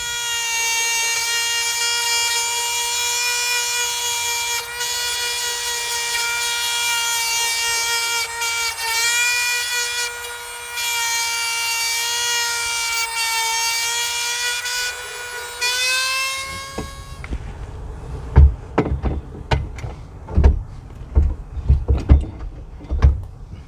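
An abrasive tool grinds paint off a trailer frame down to bare metal, first as a steady high whine with a constant pitch, then as rough, irregular scraping and knocking bursts close by.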